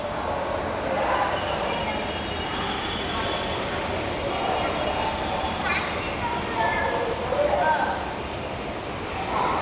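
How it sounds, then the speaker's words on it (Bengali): Dhaka's metro rail running through a station: a steady, dense mechanical rumble with faint high squeals and tonal whines rising briefly, heard close and continuous with no clear voices above it. "দেশে প্রথম মেট্রো রেল"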